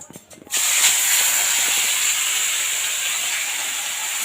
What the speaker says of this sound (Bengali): তেল ভালোভাবেই গরম হয়ে গেছে গরম হয়ে গেছে মাছগুলো পরপর দিয়ে দেব